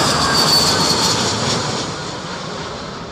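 A jet airliner roars in to land at Heathrow airport during Storm Isha, a loud, broad engine rush that slowly fades over a few seconds with no talking.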